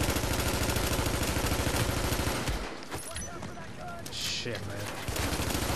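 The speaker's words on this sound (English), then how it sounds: "I'm shooting his fucking kneecap and he still doesn't die." Loud, rapid automatic gunfire from The Division's Dark Zone runs in dense bursts, drops briefly mid-clip, then resumes. A man curses briefly over the shooting.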